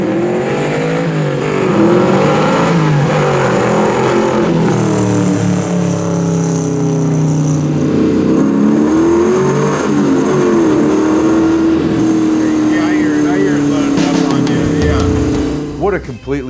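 A powerful 700 hp AMC/Hurst SC/Rambler Scrambler engine revs loudly and close, its pitch repeatedly climbing and falling over a steady roar.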